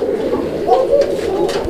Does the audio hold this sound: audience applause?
no